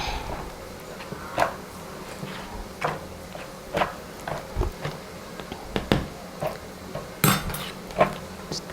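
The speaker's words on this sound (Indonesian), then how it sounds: "Aduk rata." A spoon stirs a mixture of water, salt and sugar in a bowl, giving off scattered light clinks and taps against the sides at an uneven pace, close and fairly quiet, with no talking.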